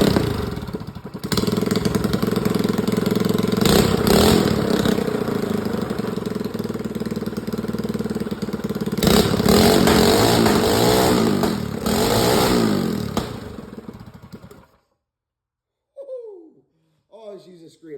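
A Predator 212 engine on a minibike idles and revs hard in loud bursts, close up, for about fifteen seconds before cutting off, followed by brief voices in the quiet.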